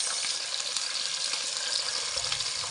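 Four pieces of galunggong, or round scad, fry in hot oil with a steady, even sizzle and crackle that runs the whole time at a moderate distance, with no voices.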